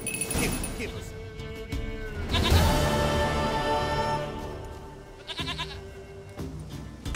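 Goat bleats rise over a busy, layered game soundtrack with music, a loud bleat-like burst near the middle and another shorter call toward the end, all fairly close and strong.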